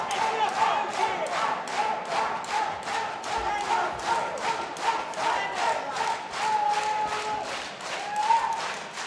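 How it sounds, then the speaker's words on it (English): A hometown crowd at an MMA event claps and chants in a steady rhythmic beat, many hands slapping together in unison with a roaring cheer underneath, loud and continuous. "hometown crowd getting hyped for Ahmala."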